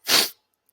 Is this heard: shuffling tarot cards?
no